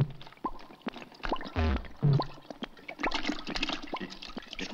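Water is poured and gurgles into a person in a water-torture interrogation scene from a 1964 Italian spy comedy film, with irregular splashes, glugs and sloshing close up and no speech.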